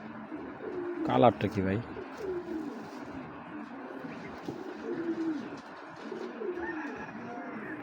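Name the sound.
racer pigeons cooing at a pigeon farm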